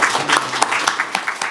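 An audience at the close of a policy forum on the digital transformation of Korean agriculture gives steady, moderately loud applause, with many hands clapping in a continuous patter.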